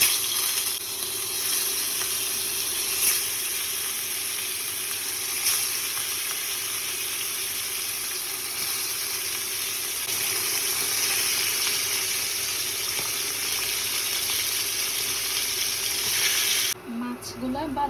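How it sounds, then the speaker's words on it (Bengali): Salmon pieces rubbed with turmeric and salt sizzle steadily in hot oil in a pan, a close, continuous crackle for the whole stretch that ends with a brief clatter. "তারপর এটা হচ্ছে তেলে এগুলো ফ্রাই করে নিব"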